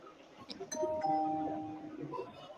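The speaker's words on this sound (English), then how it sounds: "Somebody's texting me." Text message notification tone on a phone, a soft two-note ding-dong chime at moderate volume, with a person talking faintly around it.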